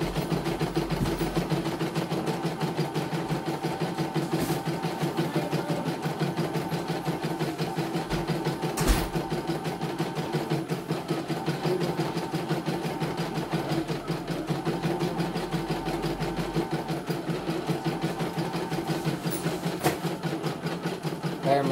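A CNY E900 embroidery machine runs a test, giving a steady mechanical hum with fast needle chatter that carries on evenly, plus a few sharp clicks, and no one speaks.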